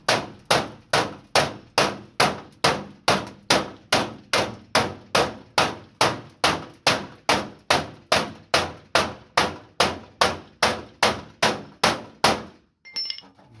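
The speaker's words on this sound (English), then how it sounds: "Now there's hammer strikes in there, but it's bringing it back in place." A steady run of sharp metallic hammer blows on a car body panel, about two per second, loud and close, stopping abruptly near the end.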